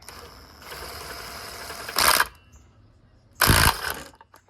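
Flywheel puller working the flywheel off a Stihl MS660 chainsaw: a steady mechanical ratcheting drone, broken by two loud, sharp bursts of cranking or tapping, close by with no talking.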